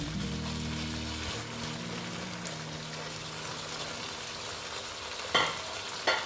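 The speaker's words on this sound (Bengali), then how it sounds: "দেখো তেলটা প্রায় উঠে গেছে এবার আমি এই মাছগুলোকে এখানে দিয়ে দিচ্ছি" Boal fish pieces sizzle steadily in hot oil for a mustard and poppy-seed dish, a close, even frying crackle with a couple of brief louder spatters near the end.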